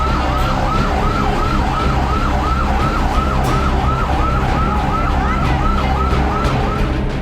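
A wailing fire engine siren sweeps up and down in a fast, steady rhythm, loud and close, over the rumble of the vehicle's engine, with no voices.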